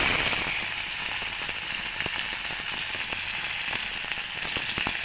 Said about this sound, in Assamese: এতিয়া মই মাছ বহাই দিম, তেল গৰম হৈ গ'ল।